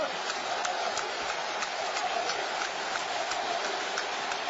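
Steady rain pours over a football stadium during the 2012 Africa Cup of Nations final, Ivory Coast versus Zambia, a dense continuous hiss filling the whole stretch without break.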